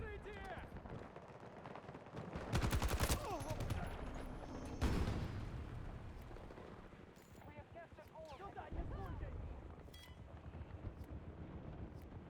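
Bursts of Battlefield 2042 gunfire crack and rattle through a busy in-game battlefield, with two loud volleys standing out amid steady distant shooting and rumble while players talk over it.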